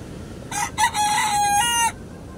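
A rooster crows once, a loud, clear cock-a-doodle-doo rising then holding a long strained note, alone against quiet background hiss.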